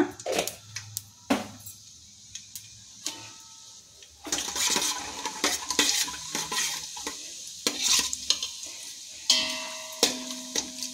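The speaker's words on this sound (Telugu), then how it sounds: "జీలకర్ర వేగుతుందండి." Cumin seeds sizzle in hot oil in a pan while a spatula stirs and scrapes, making loud, close bursts of crackling with intermittent clatter and no voices.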